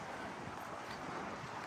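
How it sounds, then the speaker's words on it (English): Steady wind blows outdoors among spruce trees, a constant broadband rush with faint gusting and no voices. "It's windy."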